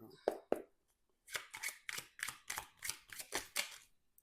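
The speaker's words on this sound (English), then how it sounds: "So let's just give a quick shuffle through and see where we're at" A quick burst of tarot card shuffling: two sharp snaps, a pause, then a steady run of rapid riffling bursts, close and fairly quiet.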